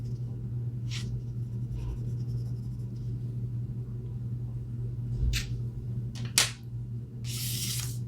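Colored pencil building up dark color on paper, soft scratchy strokes coming in short separate bursts, close and fairly quiet over a steady low background hum.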